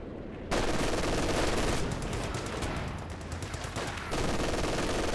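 Sustained machine gun fire and battle noise from a Company of Heroes 2 multiplayer match, loud and continuous over dense combat clatter.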